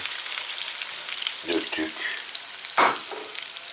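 Beaten egg poured into a hot pan for a sucuk breakfast fries with a steady crackling sizzle, broken by a few scraping stirs and a louder clatter near the end, close and with no talking.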